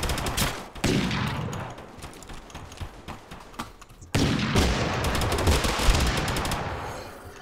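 Gunfire in the video game TABG, including a single-fire shotgun, heard as two heavy blasts each followed by dense crackling shots, loud and close with no talk.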